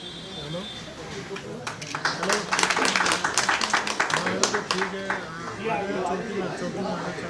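Crowd clapping at a public meeting with local police in Seelampur, a burst of hand claps mixed with talking voices, rising then tapering over several seconds.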